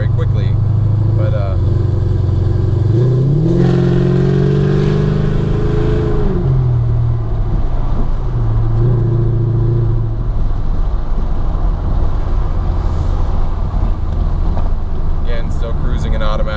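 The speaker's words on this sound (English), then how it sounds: "And I can feel the rumble, like you can feel this exhaust." A 2016-2019 Chevrolet Camaro with a Stainless Works exhaust and test pipe cruising in automatic mode, a loud steady low rumble that swells briefly as revs rise and fall, with someone talking over it.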